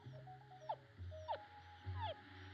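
A little puppy tucked in a paper bag in a restaurant whimpers in three short, rising cries, close by, against a low background murmur.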